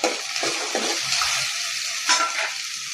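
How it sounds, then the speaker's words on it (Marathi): Tomato and onion frying together in a pan for a potato bhaji, a steady close sizzle with a few soft stirring scrapes and brief louder bursts, no voices. "त्यानंतर टमाटर टाकून घ्यायचं, ते पण छान मॅश होतं तळून घ्यायचं."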